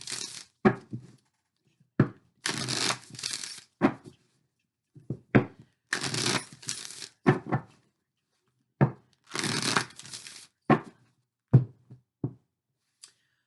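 Oracle cards are shuffled in repeated bursts of riffling and flapping, separated by short silences and sharp taps as the deck is squared, close and fairly crisp with no talking.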